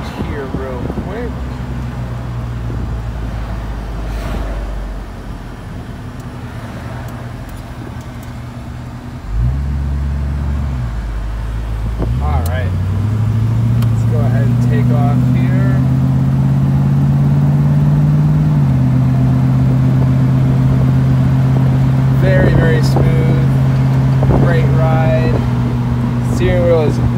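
1970 Ford Mustang convertible driving with the top down, its engine droning steadily and then revving up to a higher sustained hum, while someone talks over it throughout.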